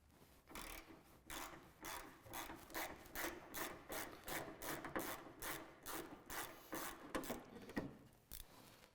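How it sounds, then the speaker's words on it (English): A T40 Torx driver unscrews the bolt from a bed tie-down on a third-generation Toyota Tacoma, making a fairly quiet, rhythmic series of rasping ratchet strokes, roughly two per second, with no talking. "we're going to switch to our T40 Torx and pull the bolt out of the"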